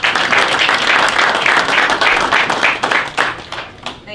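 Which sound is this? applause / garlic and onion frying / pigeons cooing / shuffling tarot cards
applause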